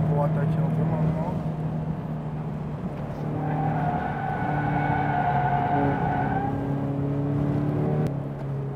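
A Toyota GT86 drives around a race circuit at a relaxed pace, its engine a steady, moderately loud hum with gentle shifts in pitch, heard from inside the car.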